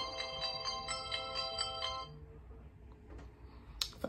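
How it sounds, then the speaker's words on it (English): A phone ringtone plays a repeating melodic pattern for about two seconds, then stops, leaving quiet room noise with a couple of small clicks. "My phone is always going off in the middle of my recap."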